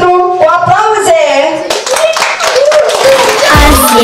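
Hand clapping at a child's birthday surprise greets a giant white teddy bear, close and lively, with music and singing voices over the claps throughout.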